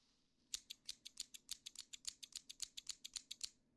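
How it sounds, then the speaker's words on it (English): Rapid, crisp snipping of scissors very close to the ears during an ASMR hearing-exam roleplay, about twenty quick cuts in an even rhythm over a quiet background. "I'm going to be putting the scissors close to your ears"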